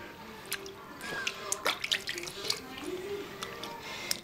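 Water drips and splashes while a small child is bathed at home, with scattered light trickles and pours and occasional soft voices around them.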